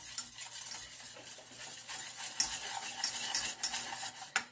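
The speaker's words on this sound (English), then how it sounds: "let's now whisk all this together" Egg yolks, sugar and a pinch of salt whisked briskly in a bowl, a steady rapid scraping and clinking of the whisk with no talk, growing louder and sharper toward the end.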